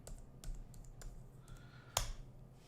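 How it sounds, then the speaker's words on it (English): Someone types a command on a computer keyboard in a Raspberry Pi terminal. Soft, scattered key clicks sound close and quiet, with one sharper keystroke near the end. "Now we're gonna type in"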